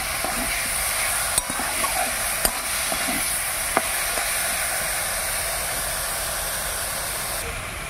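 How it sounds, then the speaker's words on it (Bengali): Turmeric and salt being stirred through a hot pan, a steady sizzling hiss running throughout with a few sharp spoon-on-metal clicks scattered across it, close and moderately loud. "এবার ভালো করে নাড়াচাড়া করে নেব।"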